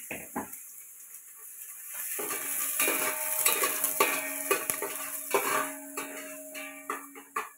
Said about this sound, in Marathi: बघूला तापलंय, कांदा टाकून घेते फोडणीला।